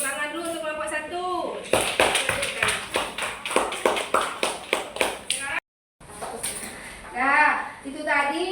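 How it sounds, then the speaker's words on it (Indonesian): A classroom of children claps for a group in a run of about a dozen sharp, fairly regular claps, with children's voices before and after and a brief dropout mid-way. "Tepuk tangan dulu untuk kelompok 1."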